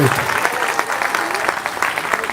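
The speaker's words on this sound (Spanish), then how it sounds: "Aplausos, pues, aplausos." A church congregation claps steadily, dense applause throughout, with a voice briefly audible at the start.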